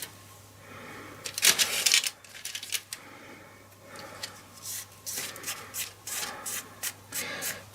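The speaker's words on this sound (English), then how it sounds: "Press it into the gilding." A stamped card pressed and rubbed by hand into gilding foil in a tin, producing soft crinkling rubs and scratchy bursts, one brief louder rustle and then intermittent light scrapes over a faint steady hum.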